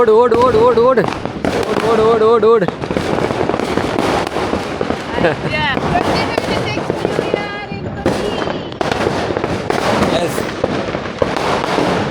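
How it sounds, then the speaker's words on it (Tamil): Rapid strings of firecrackers and fireworks popping and bursting in dense, overlapping volleys at a New Year celebration, with people shouting and cheering amid the explosions. "எல்லா பட்டாசு"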